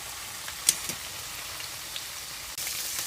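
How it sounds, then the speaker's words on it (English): Steak frying in hot oil in a pan over high heat, a steady bright sizzle with small pops and crackles, growing louder near the end as the meat settles into the oil. "you're going to want to grab your steak and you're just going to want to place it in the oil. This is going to fry quickly."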